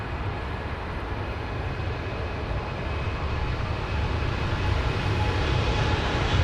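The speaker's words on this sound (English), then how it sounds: "So we've got British Dreamliners on the departures." A British Airways Boeing 787 Dreamliner departing Heathrow, its engines giving a continuous loud rumbling roar that builds slightly over the seconds, with no talk.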